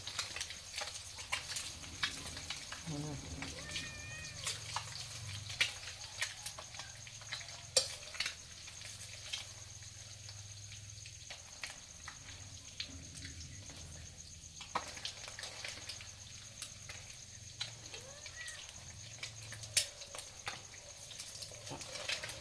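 Eggs are stir-fried in a pan, with a steady, soft frying sizzle and occasional scraping stir strokes that continue for a long stretch. No one speaks.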